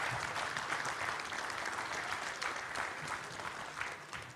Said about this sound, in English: Can we get a big round of applause for these amazing athletes right here on my left and right?